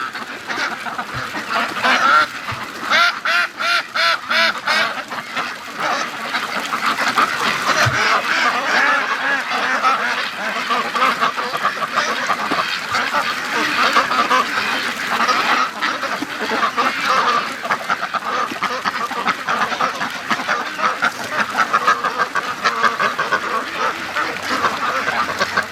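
A large flock of free-range ducks, including Muscovies, quacks nonstop as they rush past, a loud, dense chorus of overlapping calls with a few sharp knocks near the start.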